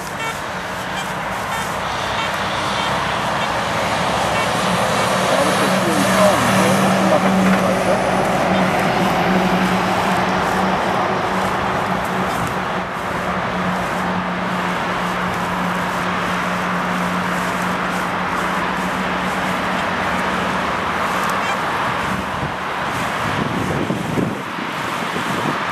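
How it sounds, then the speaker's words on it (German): Continuous street traffic noise from passing cars, a broad steady roar with wind buffeting the microphone and a low engine drone, briefly dipping and rising again near the end. "der Lärm von den Autos."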